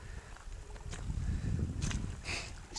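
Slaughter Creek, a small mountain creek on the Appalachian Trail in Georgia, flows with a faint, steady wash of water, mixed with wind, that swells slightly midway.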